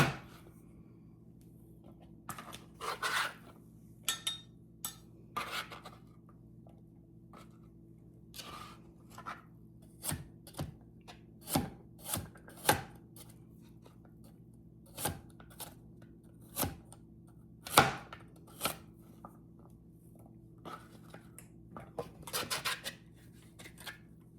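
A knife chops food on a board while chicken soup is prepared, with irregular sharp cuts, some in quick clusters and others spaced apart, heard close and fairly quiet over a steady low hum, without talk.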